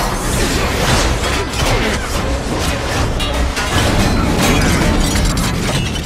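A film explosion as the Mark 42 armor is forced onto Killian and blown up: dense, sustained roaring blast and crashing debris, loud and continuous throughout, with no talk.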